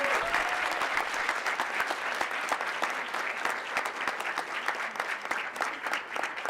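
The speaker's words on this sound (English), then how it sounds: "we all just want to give you one round of applause" A crowd claps steadily throughout, a dense, sustained round of applause with no voices standing out.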